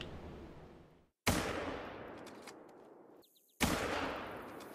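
Gunfire in a turkey hunting video game: two loud, abrupt blasts with long, rumbling decays, separated by a brief near-silence.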